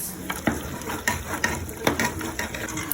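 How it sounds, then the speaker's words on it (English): Cow head and chicken meat sizzle steadily in a hot stew pot, a constant crackling hiss broken by occasional scraping stirs and small pops. "I like adding my meat while frying the stew"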